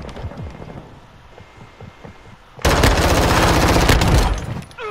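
Rapid automatic gunfire from a blueprint weapon in Call of Duty: Modern Warfare II erupts loud and close after a quieter stretch of scattered shots and footsteps, hammering steadily for nearly two seconds before tapering off.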